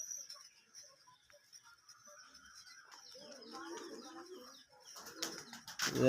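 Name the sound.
pigeons cooing in a loft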